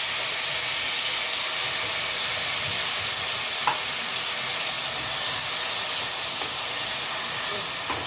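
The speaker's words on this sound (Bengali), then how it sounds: "দেখুন তেলটা গরম হয়ে গেছে। এবার আমি এতে দিয়ে দেব একটা পেঁয়াজ বাটা।" Loud, steady sizzling of onion paste hitting hot oil, a constant close hiss with a faint clink partway through.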